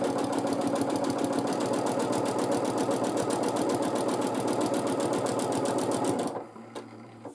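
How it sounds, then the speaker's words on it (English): A sewing machine free-motion quilting on light pink fabric runs loud and close with a fast, even needle rattle for about six seconds, then stops abruptly, leaving near silence with a faint click. "I am quilting on a light rosa fabric."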